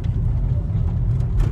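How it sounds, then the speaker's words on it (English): Car noise from inside or beside a car, a loud continuous low engine and road rumble with no distinct events. "Sorry about the noise of the car"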